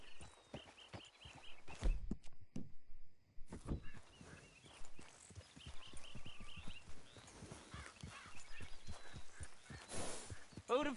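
Rhythmic clip-clop of horse hooves walking at a steady pace in Red Dead Redemption II, fairly close, with faint birdsong and occasional other sounds in the background.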